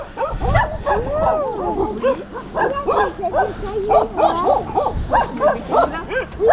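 Several friendly dogs bark and yip repeatedly in a field in Morteros, Argentina, fairly close and overlapping, with people talking over the barking throughout.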